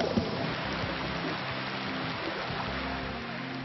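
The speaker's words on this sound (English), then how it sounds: "Wow, these are really massive raindrops." Heavy rain with big raindrops pattering onto a river in the Amazon, a dense, steady hiss of falling water heard from a canoe, continuous and fairly loud throughout.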